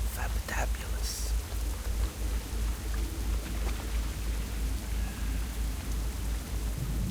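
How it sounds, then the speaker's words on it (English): Steady rain falls in the Tirisfal Glades of World of Warcraft, a continuous soft hiss with a few brighter crackles early on, faint and even throughout, with no voices. "And it's raining again."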